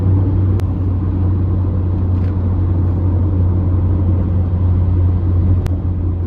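Car cruising at highway speed over the Skyway bridge, a loud, constant low road rumble and engine hum heard from inside the cabin, with no change in pace.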